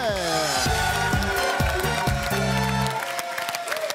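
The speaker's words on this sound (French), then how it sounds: "Applaudissements pour Christiane et Gilbert" Studio audience on a French TV dating show claps and cheers to welcome a couple, the applause mixed with a loud musical jingle that rings out and fades near the end.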